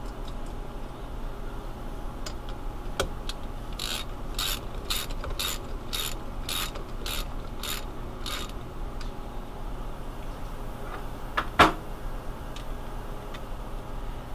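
A torque wrench ratchets on a bolt as it is tightened toward 45 foot-pounds, about a dozen evenly spaced clicks close up in a quiet room, followed by a single louder click as it reaches the setting.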